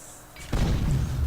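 A grenade launcher explosion in the video game Project Free Fall goes off suddenly after a quiet moment, a single loud deep boom followed by a rumbling, crackling tail.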